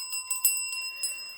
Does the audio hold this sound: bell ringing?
yes